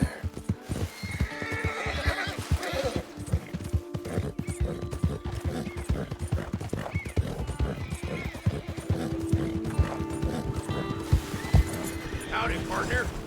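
A horse whinnies and hooves clip-clop steadily over a dense, continuous Red Dead Redemption 2 game soundscape, with the animal sounds close and fairly loud throughout.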